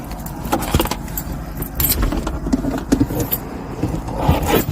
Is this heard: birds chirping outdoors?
no